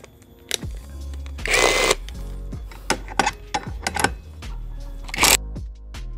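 An impact wrench works on the clutch of a Yamaha All New NMAX 155 on the workbench, firing short loud bursts with clicks and metallic clanks between them.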